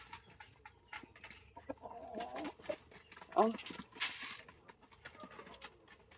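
Pet chickens cluck and call softly while being fed, with a few sharper bird calls rising over rustling and a voice talking nearby.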